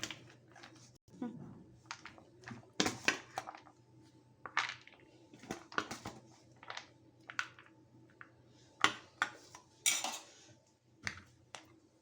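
Maggi churmuri tossed with lemon juice in a bowl, a spoon scraping and clinking against the bowl in irregular bursts of sharp taps and rustles, close and fairly quiet.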